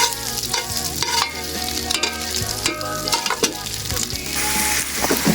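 Chicken sautéing in hot oil in a pan, continuous close sizzling and crackling with repeated scraping and stirring strokes of a utensil.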